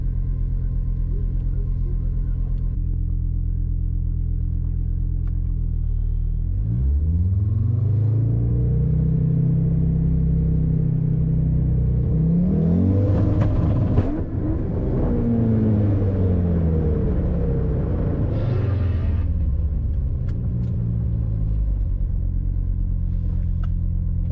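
A drag race car at a drag race event idles low, then accelerates hard with rising, shifting engine roar that peaks loud mid-run and fades back toward a rumble, with no talk over it.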